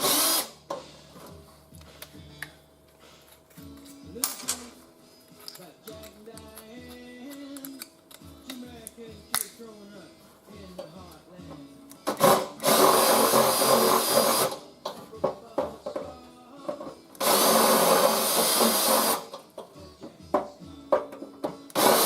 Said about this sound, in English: sounds like my drill's going down too